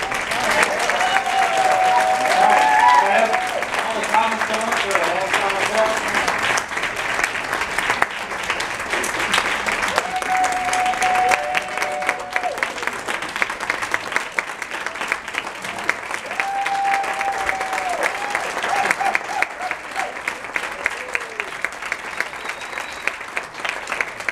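An audience at a stand-up mental health comedy show claps steadily at moderate volume, with a few whistles and whoops rising over the applause.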